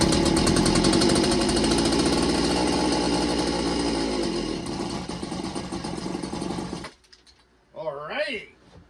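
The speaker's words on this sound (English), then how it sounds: "As you've noticed, the saw will run, but we're experiencing a fuel delivery issue." A Poulan 3400 Countervibe chainsaw with a fuel delivery problem runs loud and close with a buzzing two-stroke drone that sags in pitch, then cuts out, followed by someone speaking.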